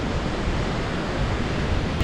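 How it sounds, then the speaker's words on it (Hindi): Khamosh Waterfall near Skardu thunders in a constant, dense roar of rushing, falling water, loud and unbroken with no voices. "मतलब बहुत शोर है पानी का"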